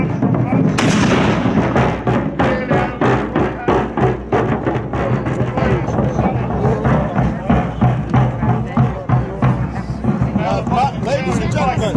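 Siege guns fire at a Civil War siege reenactment at Newark, a run of loud booming reports repeating under continuous talk and crowd noise.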